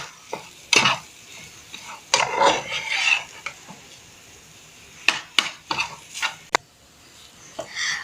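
A spoon stirs and mixes potato samosa filling in a pan, giving intermittent scraping strokes and clinks in short bursts separated by quieter gaps, close and clear with no talk.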